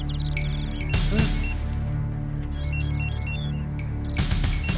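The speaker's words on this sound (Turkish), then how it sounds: "Komutanım yine çalıyor." A telephone rings in a military setting, its electronic tone sounding in short repeated bursts over a steady background hum, with no talk during the ringing.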